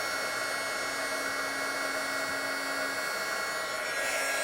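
A heat gun blasts steadily from underneath a metal piece being warmed before powder coat is sifted on, a constant loud roaring whoosh throughout.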